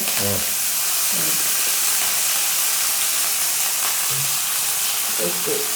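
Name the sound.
oil heating in a pan for fish curry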